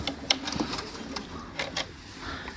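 A sewing machine stitches a half-scale jacket lapel at close range, with quick uneven mechanical ticks and clacks running over a soft rumbling motor.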